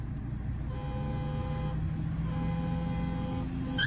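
A car horn sounds in steady held tones before a drag race between a stock Honda Civic and a tuned Mercedes A200d, heard over a low idling engine rumble without any talk.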